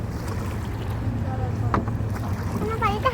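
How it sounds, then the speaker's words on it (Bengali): A wooden oar paddling a boat at a tourist spot in Bogura, with steady water and wind noise throughout and someone talking over it. "এই দেখেন বৈঠা দিয়ে দাঁড় বাঁধছি"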